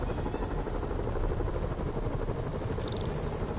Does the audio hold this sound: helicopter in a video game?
yes